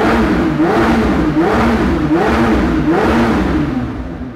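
McLaren 765LT Spider with a stock, fairly quiet exhaust revving at a showroom and workshop, a close engine swelling and dropping in a few rhythmic blips before easing off at the end.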